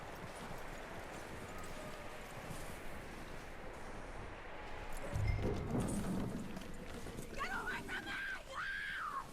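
Horse hooves clip-clopping in the video game Red Dead Redemption 2, steady under wind noise and game ambience, with voices talking over them.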